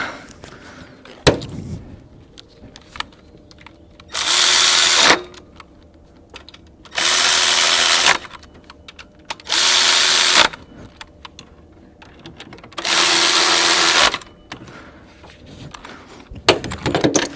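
Power tool runs down the bolts on a replacement HT6 AC compressor of a GM OBS Chevy/GMC truck in four loud bursts of about one second each, with quiet handling noises between them.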